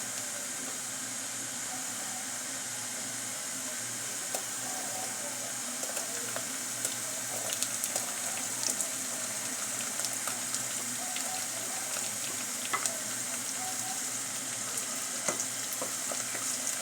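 Garlic and white onions fry together in a pan, a steady close sizzle and hiss that never lets up, broken by light stirring clicks and taps from a utensil.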